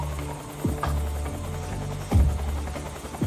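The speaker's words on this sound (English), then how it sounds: "Okay, helicopter's right here." Helicopter in Metal Gear Solid 3, a steady low rotor drone with a pulsing hum running throughout, fairly loud and close, with a couple of brief louder thumps breaking through and no talking.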